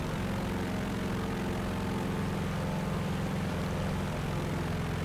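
Potez 631 twin-propeller aircraft in War Thunder, its engines holding a loud, steady droning hum with a throbbing low buzz for the whole stretch.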